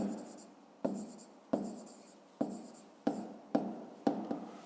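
A pen writes numbers on paper during a maths exercise, seven distinct scratchy strokes in an irregular rhythm, each starting sharply and fading, close and quiet.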